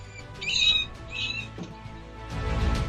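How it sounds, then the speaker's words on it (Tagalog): Faint, high-pitched squeaks from a mouse come in two short bursts, followed by a low rustling thump near the end. "Ang huling maririnig mo ay ang mahina at desperadong sigaw ng daga"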